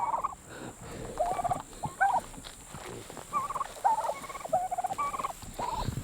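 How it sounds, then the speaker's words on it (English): White turkeys gobble in a rapid string of warbling calls from several birds close by, bursts overlapping one after another over a low background hiss. "we started with 15 of these turkeys, these white ones"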